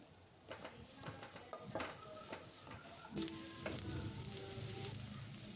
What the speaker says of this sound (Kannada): ಸ್ವಲ್ಪ ಫ್ರೈ ಮಾಡ್ಕೊಳ್ಳೋಣ, ಅಂದರೆ 1 ನಿಮಿಷ ತನಕ ಫ್ರೈ ಮಾಡ್ಕೊಬೇಕು